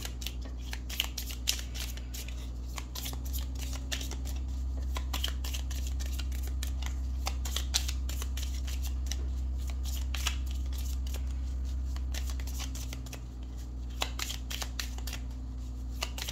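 Tarot cards are shuffled in a long run of quick, crisp riffling flicks close by, with a low steady hum underneath and no speech.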